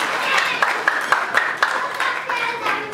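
An audience applauds at a speech event honouring a guest, a steady patter of hand claps at moderate distance with individual sharp claps standing out, continuing evenly throughout.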